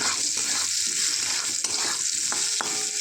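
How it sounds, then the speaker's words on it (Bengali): Raw mango frying in a pan while being stirred: a close, continuous crackling sizzle broken by scraping stirring strokes, with no voices. "এরপর কাঁচা আমটা একটু নেড়ে নেব"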